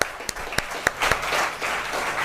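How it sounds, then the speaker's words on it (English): A few sharp, separate claps ring out near the start, then spread into brief, moderate applause from the audience at a talk on AI and productivity. "Please join me in giving him a very warm round of applause, please."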